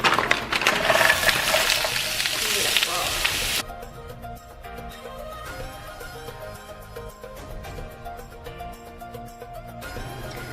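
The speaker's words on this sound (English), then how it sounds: "Oil the pan, and then I'm going to pop in our cooked shrimp just to get them nice and heated." Shrimp, already cooked, hiss and sizzle loudly in an oiled pan for a few seconds, then the frying drops to a quieter steady crackle with faint clinks, nearby and continuous.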